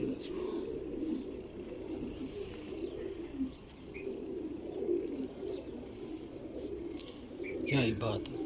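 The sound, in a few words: pigeons cooing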